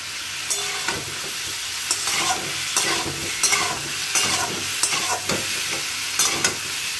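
Spiced potatoes fry in a pan after a splash of water, giving a steady sizzle broken by repeated scraping strokes of stirring at a regular rhythm, close and clear with no talking.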